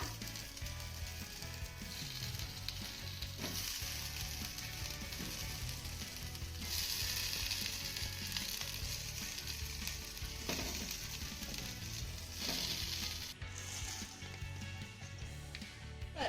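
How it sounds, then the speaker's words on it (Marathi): Cabbage leaf vadis shallow-frying in a pan, giving a continuous crackling sizzle that swells and fades over a long stretch, broken by a few brief clatters. "अशाच पद्धतीने आपण राहिलेल्या वड्या देखील भाजून घेऊया"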